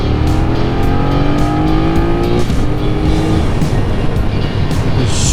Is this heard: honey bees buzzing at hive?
no